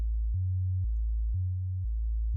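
A Reaktor modular bass synth plays a repeating low note with a low-pass filter cutting the highs, giving deep, rounded, thumpy pulses about every half second. The tone is clean and close, and nobody talks.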